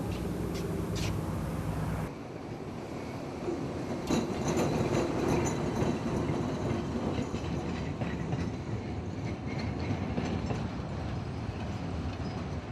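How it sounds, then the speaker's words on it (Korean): A train passes through an Andean Indian village on the way to Riobamba, a steady rumble with rhythmic clickety-clack of wheels that swells after a brief quieter opening and carries on at moderate distance. "일주일에 3번 지나는 이 기차를 아이들은 하루 종일 기다렸다."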